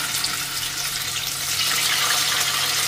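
Paneer pieces fry in hot oil, giving a continuous bright sizzle that stays loud and even throughout, with no voices.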